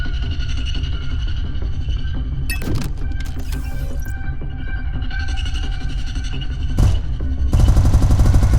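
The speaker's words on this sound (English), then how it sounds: "Now, activate your turret weapon group and fire away." Spaceship turret weapons firing in the space game SpaceBourne 2, sharp bursts of rapid shots over a steady loud drone, with a dense sustained volley near the end.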